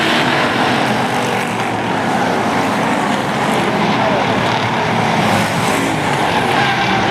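Race cars speed around a racetrack during a competitive race, a continuous loud roar of engines and rushing tire and road noise throughout, dense and steady with no pauses.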